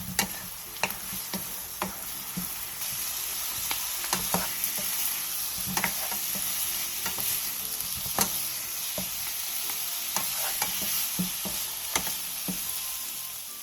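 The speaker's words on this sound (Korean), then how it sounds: "그 다음 튀겨놓은 감자를 넣고 골고루 버무려주세요" Fried potatoes tossed with grain syrup in a pan, producing a steady sticky sizzle with repeated sharp clicks and scrapes of stirring, close and alone without talk.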